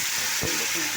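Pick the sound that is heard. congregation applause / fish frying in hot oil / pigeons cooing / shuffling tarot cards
fish frying in hot oil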